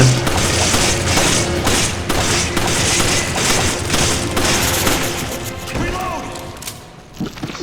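Dynamite blasts and heavy gunfire in Resident Evil 5 form a loud, dense barrage of booms and crashes that carries on for several seconds, then thins out toward the end, with a player talking over it.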